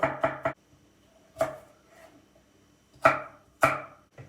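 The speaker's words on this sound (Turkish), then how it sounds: "Soğana tabandan lezzet versin diye iki tane sarımsak doğruyorum" A knife chops garlic on a cutting board in sharp, close taps: a quick run of three, then scattered single strikes with pauses between.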